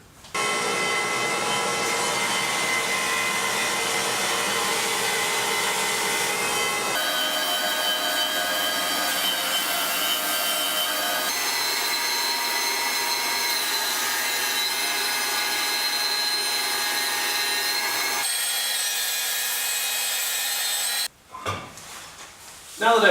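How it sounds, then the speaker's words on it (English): A dust collector drones steadily while a jointer planes wooden boards, a loud sustained whine with the cutter pitch shifting as each board passes through, ending with the machines spinning down. "I'll start the dust collection and I'll send a few boards through."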